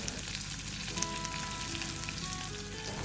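Onions frying in a pan for a Kerala-style beef curry, with a steady close sizzle and crackle throughout and no talking.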